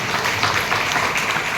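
Dense, steady applause from a church congregation at a Calvary Preeti Ministries service in Bidar, a continuous crowd of hands clapping with no break across the short stretch.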